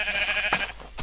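Sheep in the Minecraft video game bleat a couple of times, close and clear, with short wavering cries over a quiet background.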